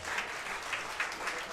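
A crowd at a pool tournament breaks into applause after a difficult shot, giving a brief burst of steady clapping at moderate distance.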